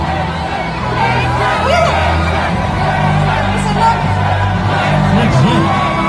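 Fans at the Aquaman Asian premiere in Manila make a dense, close crowd din of cheering, whoops and excited chatter that stays loud and continuous throughout.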